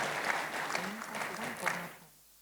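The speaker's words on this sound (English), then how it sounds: "So I think she deserves another round of applause." An audience applauds at a leadership dialogue event, the clapping blending with voices and then dying away abruptly near the end.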